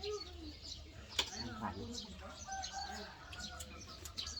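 Chickens cluck and chirp close by, with people talking over the birds throughout.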